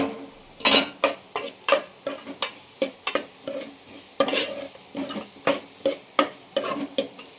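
Vegetables including cabbage and carrot sautéing in a little oil in a pan for vegetable soup, a soft sizzle under repeated sharp scrapes and clinks of a stirring spoon, close and fairly loud.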